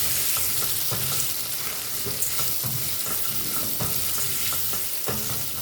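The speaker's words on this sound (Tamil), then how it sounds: "ஒரு 2 நிமிஷம் இது வதங்கட்டும்." Boiled, cut tapioca with a pinch of turmeric sautés in a pan: a continuous close sizzle broken by regular scraping stirs from a spoon, with no voices.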